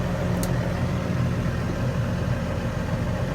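A Case Puma 150 Power Shift tractor idles steadily, its engine giving a continuous low rumble at close range with no other sounds over it.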